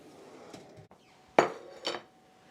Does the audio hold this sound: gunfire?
no